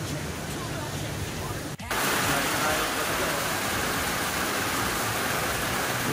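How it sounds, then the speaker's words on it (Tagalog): Heavy rain pours steadily onto a roofing job site where trusses are being installed, a dense hiss that drops out for an instant and then resumes louder. "Inabutan kami ng ulan."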